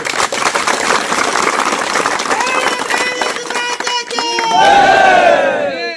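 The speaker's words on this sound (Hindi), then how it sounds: "एक बार ताली बजाइए" A large crowd at a political rally in Jharkhand bursts into loud clapping, cheering and shouts, building to sharp whistles near the end. The roar stays dense and close throughout.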